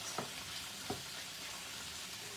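Chicken with broccoli and cauliflower cooks in a skillet, a quiet continuous sizzle with two soft knocks of stirring, and no voices.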